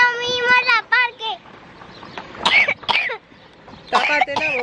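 A young girl coughs several times in a home setting, short harsh bursts separated by pauses, while someone speaks between and around the coughs.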